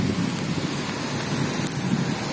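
Light November drizzle falls outdoors over flowers, making a dense, even patter and hiss that continues without a break and without any talking.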